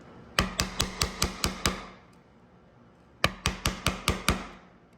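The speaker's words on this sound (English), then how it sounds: "Now if I come in here and I start cutting away with a blade, it's going to have a lot less resistance." Two quick runs of about seven sharp mallet strikes on a chisel, each crisp and close, chop waste from a wooden dovetail, with a brief quiet gap between the volleys.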